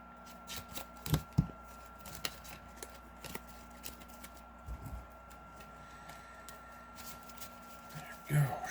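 A deck of playing cards being shuffled during a tabletop card game, several quick riffling bursts and soft flicks close up, separated by quiet gaps.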